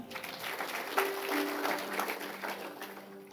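A church congregation claps at an evening service, moderately faint scattered applause with a few sharper claps and faint background voices.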